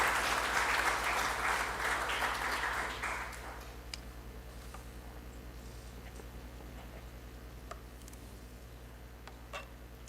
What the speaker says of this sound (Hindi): एक बार जोरदार तालियों के साथ स्वागत